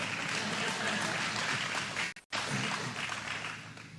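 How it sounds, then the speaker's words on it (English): An audience at a New York governor's jobs announcement applauds as a dense, steady wash of clapping. A brief gap in the middle breaks it before the applause carries on, with no talking over it. "Okay, you can clap for"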